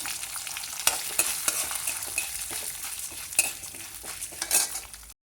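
Urad dal and chana dal fry in hot oil in a pan for brinjal chutney, a continuous close sizzle broken by repeated stirring scrapes and clinks of a spoon.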